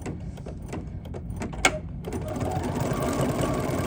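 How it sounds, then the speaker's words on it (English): An embroidery machine stitches out a light pink applique, its needle chattering in a fast steady rhythm close by, with a brief sharp clack partway through and the mechanism running on continuously. "now it's going to stitch out the applique in our light pink color"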